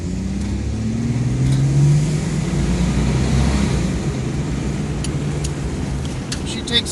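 A 1990 Chevrolet S10 Blazer 4x4 accelerates hard, its engine droning loud and steady from the cabin with rising pitch through the pull, a brief clatter near the end.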